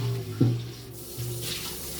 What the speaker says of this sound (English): You can rinse all the bits out of the other pot.